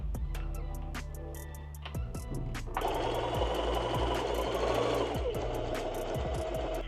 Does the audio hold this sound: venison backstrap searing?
no